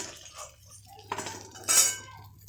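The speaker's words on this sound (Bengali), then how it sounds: "যখন মাছগুলো ভাজা হয়ে গেছে এবার আমি তুলে নেব" Fried fish being lifted out of a pan in a home kitchen: a few sharp metal clinks of a spatula against the pan, one brighter scrape near the end, faint over a low background hum.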